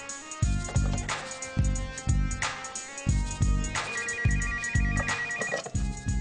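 A cordless telephone rings with a bright electronic ringtone, short rhythmic bursts repeating in a regular pattern, moderately loud and close, with no talking over it.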